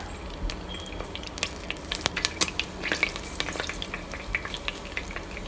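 Crushed pepper frying in a wok on high heat for restaurant-style Chinese chicken fried rice, a steady loud sizzle with crackles and sharp pops rising toward the middle, no talk.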